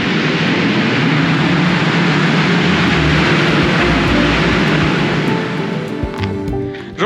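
Strong wind roars steadily and loudly across the sea cliffs at Cape St. Vincent, a dense, unbroken rush that eases slightly near the end.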